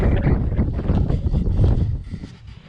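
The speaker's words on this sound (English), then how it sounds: "the wind's blowing towards me." Loud, buffeting wind blows across a hilltop wild campsite at Ros Hill in Northumberland, rumbling against the microphone in gusts before easing off toward the end.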